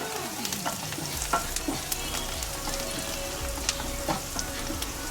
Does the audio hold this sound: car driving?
no